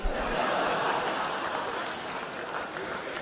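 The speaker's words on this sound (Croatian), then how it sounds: "Ovo je jedan oprezan aplauz." An audience at a talk show applauds with a moderate, even, moderately distant wash of clapping that holds steady and slowly tapers, with a few light chuckles mixed in.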